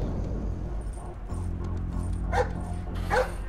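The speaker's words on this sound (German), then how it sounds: "Der Hund kommt von da." A guard dog in Splinter Cell Blacklist gives two sharp barks in quick succession, moderately close, over a low, steady game ambience.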